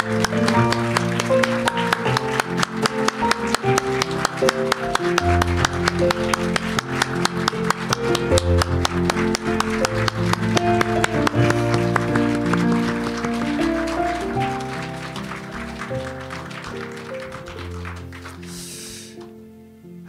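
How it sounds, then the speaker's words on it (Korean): A church congregation at a Sunday service in Jakarta claps together for about thirty seconds, a loud, dense, steady patter of many hands over organ or keyboard tones, fading at the end. "이제 30초 동안만 할 수 있는 가능한 30초 동안 우리 하나님 앞에 영광의 박수 올려드리겠습니다"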